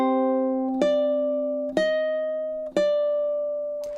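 Ukulele plays a bar of a Sakura chord-melody arrangement: four clean plucked chords about a second apart, each ringing out with sustained harmonics, close and alone with no voices.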